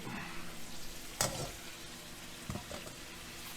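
Pork roast browning in a pan over raised heat, a quiet steady sizzle with a couple of sharp stirring clatters and spits standing out.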